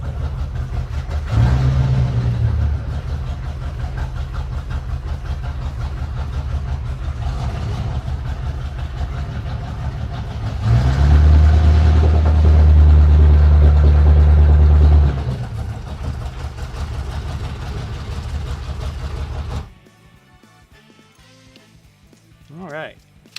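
A 1982 Corvette V8 with no mufflers idles loud and raw, then is revved twice in deep blipping surges before the engine shuts off, leaving near silence.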